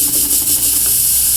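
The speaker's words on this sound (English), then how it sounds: "it's awfully hard to diagnose the safety valve leaking because of the steam that continually comes out of the" Steam hissing continuously from the air trap jet of a Tuttnauer sterilizer, a loud, steady, close-up high hiss with a faint low mechanical hum underneath.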